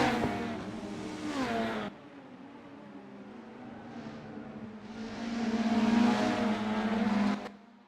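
1990s BTCC touring cars race at a circuit in the driving game Assetto Corsa. Engines roar at high revs with gear-change drops, then a second car surges closer and louder before its sound cuts away abruptly.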